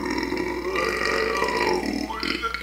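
A long, loud, drawn-out human burp rumbles for over two seconds, changing pitch as it goes, with no other voices.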